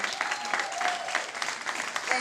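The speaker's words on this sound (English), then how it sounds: "let's give them a round of applause" Audience at an alumni honors evening applauds Lisette's family as they stand, a sustained even clatter of many hands filling the hall from start to finish.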